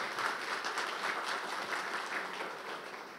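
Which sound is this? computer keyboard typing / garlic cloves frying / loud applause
loud applause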